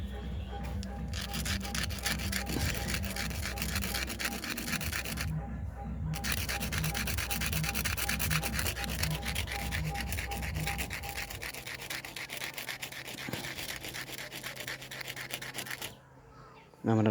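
A lotus seed is rubbed against a rough surface to scarify it, giving a steady, close, rhythmic scraping and sanding sound that continues for most of the clip.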